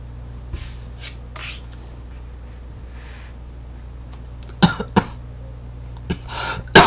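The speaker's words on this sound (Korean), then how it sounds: "죄송합니다. 기침이 나와서" Several sharp coughs, loud and close, in two bursts near the end after a quiet stretch with faint rustling.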